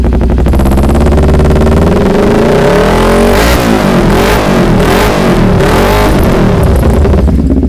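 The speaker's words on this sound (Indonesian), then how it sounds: "Ini knalpotnya pakai racing bocor rek." A two-cylinder sport motorcycle fitted with a leaking racing exhaust revs hard at close range, a loud, raspy, sustained roar with repeated throttle blips and rising and falling pitch.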